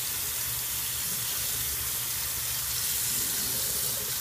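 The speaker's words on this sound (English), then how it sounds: "Now run some cold water over this so it'll cool off." Cold tap water runs steadily over metal vape tank parts in a sink, a constant hissing splash that holds an even level throughout.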